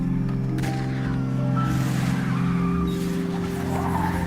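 A CGI car skids and flips in a movie action scene: loud, sustained tire squeal and engine roar over a low rumbling soundtrack, continuous for several seconds with shifting screeches.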